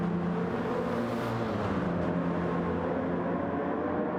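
Sim racing cars at Interlagos in a multiclass online league race, including BMWs, a steady droning engine hum with a faint passing swell, moderately quiet and continuous, no talk over it.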